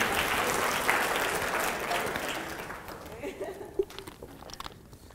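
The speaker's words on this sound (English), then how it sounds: "Please give them a round of applause" An audience at a public lecture claps for several seconds, a dense round of applause that thins out into a few scattered claps and small handling noises.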